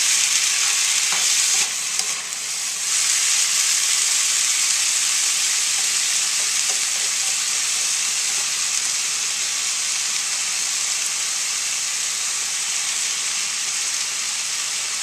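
Riced cauliflower and shrimp fry in oil in a pan with a steady, loud, close sizzle and hiss that runs without a break throughout.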